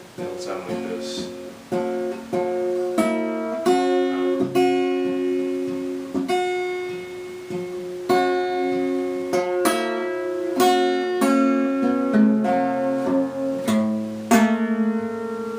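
Fingerstyle acoustic guitar playing the folk tune Uncloudy Day, with steady plucked bass notes under the melody, clear and close, notes ringing through the whole passage.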